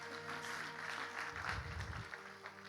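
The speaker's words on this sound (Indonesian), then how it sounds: "kita kasih tepuk tangan buat Tuhan Yesus" A church congregation applauds in a soft, diffuse wash of clapping, heard faintly at a distance over a low hum and faint music-like tones.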